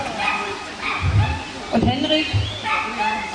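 A dog barks and yips in short bursts during VPG protection training on the field, mixed with someone talking over it at close range.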